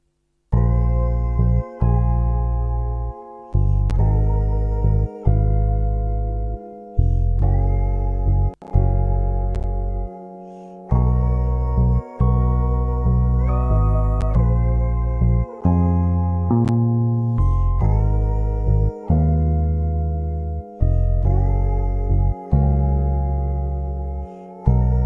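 Smooth R&B sample built from a pitched-up electric piano with a Morphine bass, rich sustained chords repeating in a steady loop of roughly two-second phrases, full and warm, no voices.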